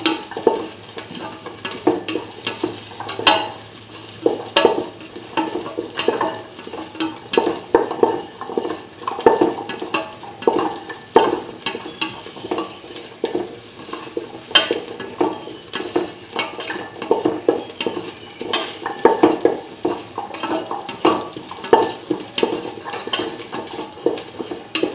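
Metal spoon scraping and clinking against a pan while curried chickpea yogurt rice is stirred and mixed, a steady run of close scrapes and taps with a faint sizzle beneath, no talking.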